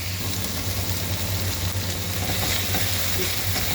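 Peppers sauté in a hot pan with a steady, dense sizzle that holds loud and even throughout, with a low hum running underneath.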